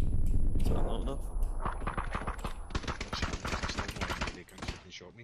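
Gunfire in PUBG cracks out in a rapid run of sharp, closely spaced shots that sound moderately near, with a voice talking over part of the volley.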